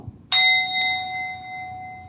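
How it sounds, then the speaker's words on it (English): A singing bowl is struck once, giving a sharp onset and then a pure ringing tone with bright overtones that sustains and fades slowly, heard alone in a quiet room. "the third sound is the singing bowl"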